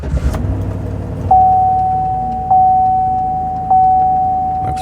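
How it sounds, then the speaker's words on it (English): A 2009 GM pickup with a 5.3 V8 that runs rough, started on a cold morning, idles with a low steady rumble while a high whine steps up in three surges, close and loud. "We're going to see how this truck starts."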